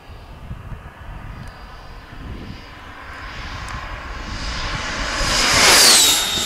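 An HSD Jets T-33 120mm EDF model jet in a slight dive at full throttle, its high-pitched ducted-fan whine building steadily as it approaches, peaking loudly on a close pass, then easing off, with wind buffeting underneath.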